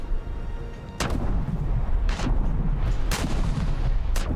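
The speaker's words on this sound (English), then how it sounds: "We'll put some suppressing fire on them." Naval guns on a frigate firing in the War Thunder video game, four heavy booming shots spaced about a second apart over a constant low rumble of engine and sea.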